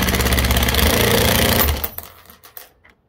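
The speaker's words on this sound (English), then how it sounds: "when you're drilling a hole straight in the roof." A power drill whirs loudly and close for under two seconds, drilling a hole in a 4WD's roof, then stops, followed by a few faint clicks and knocks.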